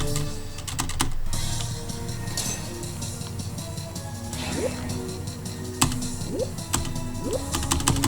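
Computer keyboard keys clacking in short irregular bursts, with a few sharper isolated presses standing out, close and fairly loud over a game soundtrack.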